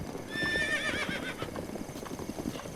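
A horse in The Legend of Zelda: Breath of the Wild gives a bright wavering whinny near the start, followed by hoof clip-clops fading under background game ambience.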